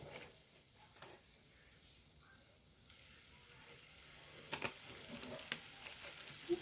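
Curry leaves stirred into hot coconut oil in a pan, giving a steady soft sizzle and frying hiss throughout, with a few light scraping taps of the spoon toward the end.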